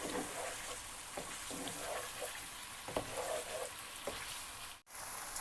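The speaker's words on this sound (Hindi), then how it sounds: "3 से 4 मिनट भूनेंगे अब हम इसको" Chicken karahi frying in a pan gives a steady, close sizzle and crackle, broken by a few soft scraping stirs and one brief dropout near the end, with no talking.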